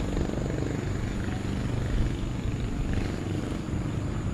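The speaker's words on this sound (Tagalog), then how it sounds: "Ang ganda paliparan ng drone dito oh." A small drone flies nearby at an old abandoned church, giving a continuous buzzing whir with a steady, fairly loud tone and no break throughout.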